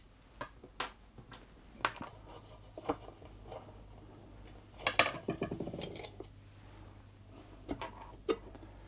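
Screws being removed from a Singer Featherweight 221K Centenary sewing machine: sharp metallic clicks and taps from a screwdriver, scattered in a close, quiet room with a brief rattling scrape midway.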